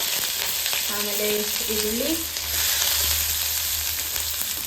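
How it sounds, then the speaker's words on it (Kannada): Mustard seeds, chana dal and cumin fry in hot oil as a tempering, giving a continuous close sizzling hiss, while a voice speaks briefly over it. "ಹೇಗೆ ಸಾಸಿವೆ, ಕಡಲೆಬೇಳೆ, ಜೀರಿಗೆ ಹಾಕೊಂಡು ಹಾಕೊಳ್ಳಿ"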